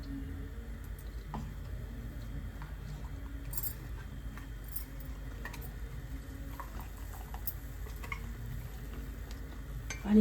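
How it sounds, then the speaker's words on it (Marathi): Milk with cashew paste stirred steadily in a pan over a gas flame, soft scraping and faint clinks of a spoon against metal, continuous and low under a quiet kitchen hum. "आणि हे सतत हलवत राहायचं, खाली चिटकलं नाही पाहिजे"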